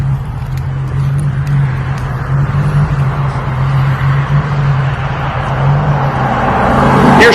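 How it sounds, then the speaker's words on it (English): Road traffic passes near a driveway as a continuous, loud broadband rumble with a steady low engine hum from an idling car nearby, swelling slightly toward the end. "Here's traffic."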